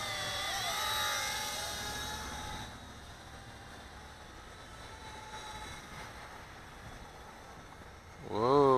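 Daming DM007 Spy drone flying at full throttle, a steady loud whirring hum of motors and propellers that swells and bends in pitch, rising sharply again near the end.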